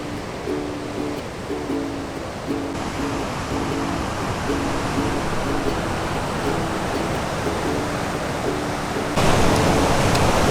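Waves wash onto the beach at Cerritos Beach near El Pescadero, Mexico, as a constant broadband roar of surf. A faint repeating tonal chirp runs through the roar and the sound swells louder near the end.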